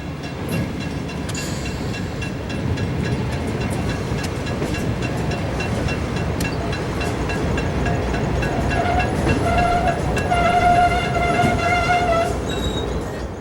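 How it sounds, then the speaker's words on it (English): A GBW freight train rolls past at Black Creek, a steady broadband rumble of wheels and cars filling the whole stretch, with a faint horn-like tone rising near the end. "GBW trains rarely get through Black Creek without working the interchange."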